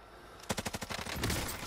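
Rapid burst of automatic gunfire in a Call of Duty-style battle royale game, about eight sharp evenly spaced shots followed by denser overlapping fire, moderately loud and close with no talk over it.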